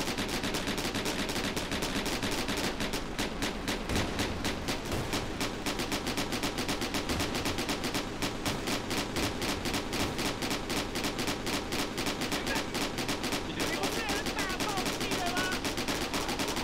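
Rapid cannon fire from combat vehicles in Scraps: Modular Vehicle Combat, a dense unbroken stream of sharp machine-gun-like shots at even loudness throughout.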